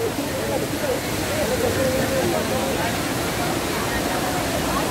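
Steady broadband rush of a waterfall at Mahayhay (Taytay) Falls in Tanay, Rizal, continuous and fairly close, with a faint voice murmuring underneath.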